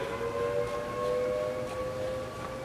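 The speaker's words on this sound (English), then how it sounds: "There's a tornado siren going." An outdoor tornado siren holds a steady, wavering tone in the distance, faint but continuous with no voices over it.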